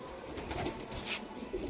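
A brief, soft, throaty coo from Kamagar pigeons, a Pakistani high-flying breed, sits close against a steady hiss of background noise.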